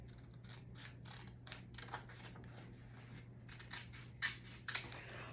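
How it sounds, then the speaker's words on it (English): Scissors snipping between two printed sublimation pieces for a graduation stole, a quiet run of small clicks and cuts over a steady low hum, with a few sharper snips near the end; no talking. "Now this is 2 different pieces, so I'm gonna cut in between to separate it."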